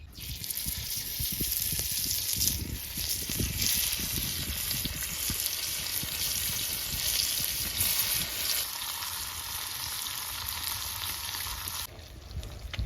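Pieces of masala-marinated fish frying in hot oil give a loud, steady, crackling sizzle that goes on without a break, close and constant, with a slight drop near the end.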